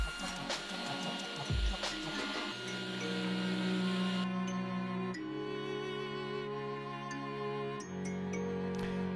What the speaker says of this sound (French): je positionne ma planche contre mon guide parallèle et je découpe mes planchettes